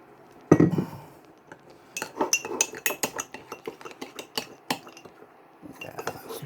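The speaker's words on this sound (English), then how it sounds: "Give it a good mix. You're looking for a paste." A marinade paste with rice wine is mixed in a bowl, giving a quick string of close clinks and scraping knocks of utensil against dish after one louder thud, with no talking.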